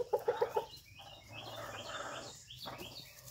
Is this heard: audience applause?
no